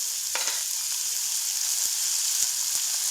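Tomatoes and green chilies sizzle in hot oil in a pan, a constant close frying hiss with a few soft stirring taps.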